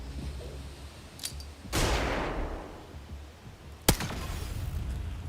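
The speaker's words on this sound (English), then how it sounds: "Flashbang." A flashbang grenade going off in the video game Xenonauts 2, a rushing burst followed a couple of seconds later by a sharp, loud crack over a low background hum.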